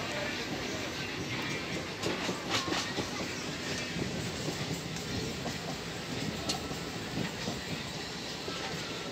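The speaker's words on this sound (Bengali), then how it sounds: "চারিদিকে সবুজ ধান ক্ষেত, আর তার মধ্য দিয়ে ছুটে চলেছে দুরন্ত গতিতে ট্রেন।" A local train on the Tarakeswar to Goghat line races at high speed through green paddy fields, its steady rumble and rhythmic wheel clatter filling the scene continuously and evenly.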